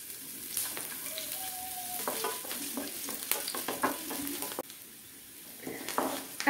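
Green chillies and ginger frying in hot coconut oil, a steady close sizzle broken by scattered utensil scrapes and stirring clicks, with a brief bubbling flare near the end.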